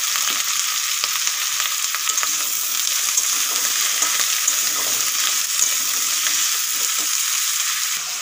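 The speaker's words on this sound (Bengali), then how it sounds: "এই কচু, আলু আর কুমড়োগুলো এখন দিয়ে দেব" Taro, potato and pumpkin fry in a pan with a loud, steady, dense sizzle that continues unbroken, with no talking.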